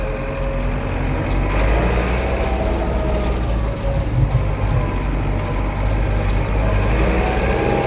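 A Case 885 XL tractor engine drones steadily and loudly throughout while driving over farm ground, a continuous low rumble with no break and no talk over it.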